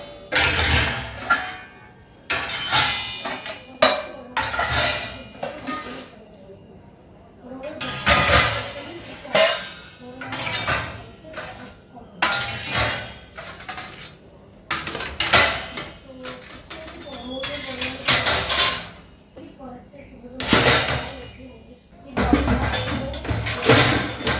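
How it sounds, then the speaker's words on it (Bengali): Pots, pans and utensils are stacked and put away in a home kitchen, with repeated loud metallic clanks and clatters in irregular bursts, separated by short pauses, with some voices in the background. "কমপ্লিট বাসন কোসন যাদের মতো রেখে দিচ্ছি"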